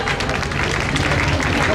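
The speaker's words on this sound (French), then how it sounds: "On peut l'applaudir, messieurs, dames." An audience aboard the cruise ship MS Astoria applauds a volunteer, a dense, steady burst of clapping with crowd murmur mixed in.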